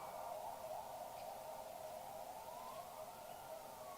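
Ambulance sirens sound steadily through the whole stretch as a continuous wailing tone, slightly distant and blended with broadband noise, with the pitch bending upward near the end as they pass. No one speaks.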